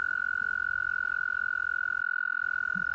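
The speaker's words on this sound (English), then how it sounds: "I'm beginning to hear the sounds of toads." Toads call by a pond in spring, a steady high trilling drone that holds for the whole stretch, joined by a faint low croak near the end.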